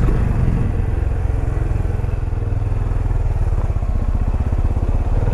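A 2020 Benelli Imperiale 400cc motorcycle, styled on a 1950 model, rides through town with a steady, close, low engine thrum and an even pulsing beat and no talk.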